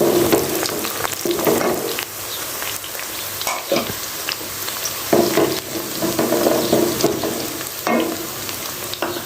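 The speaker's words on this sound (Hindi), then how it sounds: "अभी मैं इसमें ये खड़े मसाले सारे जो है ये डाल देती हूँ, ताकि मसाले भी साथ ही भुन जाए" Whole spices and browning onions frying in a pan for chicken biryani, a steady close sizzle with bursts of stirring and scraping throughout.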